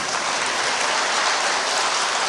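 An audience at a Saturday Buddhist dharma service claps in a dense, steady wash of applause, loud and continuous throughout without any voices.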